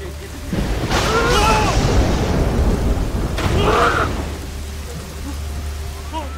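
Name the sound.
lightning strike and thunder in a horror film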